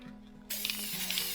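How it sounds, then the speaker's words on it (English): Varnish hisses steadily from a spray can onto a dot-art mandala, a close, continuous spray starting abruptly after a brief quiet moment. "we're just spraying across and along the sides."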